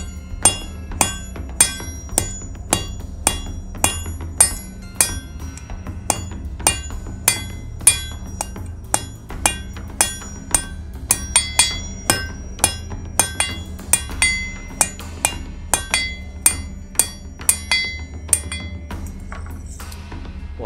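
A blacksmith forges a candle holder from hot metal, striking it with the peen of a hammer: dozens of sharp, ringing metallic blows land in a steady, brisk rhythm, close and loud, with no speech.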